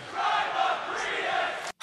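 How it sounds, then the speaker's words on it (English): A wrestling arena crowd in Tacoma chants in unison, a loud, sustained roar of many voices that cuts off abruptly just before the end. "Never thought I'd hear a more entertaining crowd for Daniel Bryan and Rowan than this one in Tacoma."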